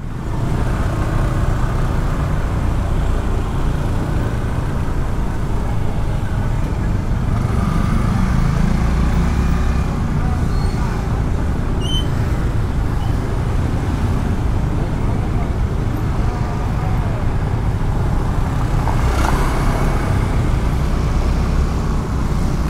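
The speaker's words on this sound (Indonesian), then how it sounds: "Macet setiap malam kayak gini jalannya." Dense night traffic jam on Jalan Raya Kerobokan in Seminyak, Bali, a steady rumble of idling cars and motorbikes. The jam continues throughout, with someone talking faintly over it.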